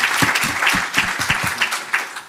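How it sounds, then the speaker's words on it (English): An audience claps in a lecture hall for a panel at a talk on international law, a brief burst of dense, lively applause, fairly close. "I think we should give them another round of applause"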